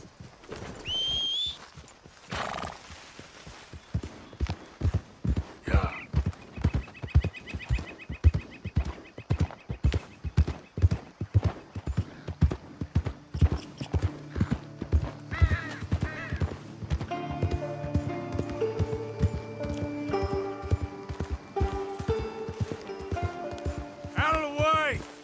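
Horse hooves clip-clop at a steady trot in a PlayStation 4 video game, rhythmic and close, with game music rising beneath and a voice speaking briefly.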